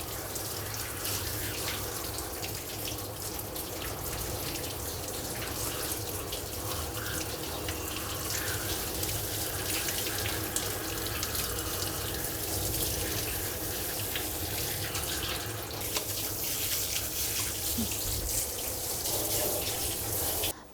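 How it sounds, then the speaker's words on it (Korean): A shower head at a self-service dog wash runs steadily as it rinses a dog, making a constant close hiss of flowing water over the whole stretch. "머리에 때리는 게 아니라 붙여서 수압을 약하게 하면 흐르는 물에 헹굴 수 있어요"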